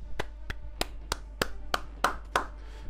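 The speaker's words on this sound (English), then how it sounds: "I clap for you" A single person claps hands eight times at an even, unhurried pace, each clap sharp and close against a low steady hum.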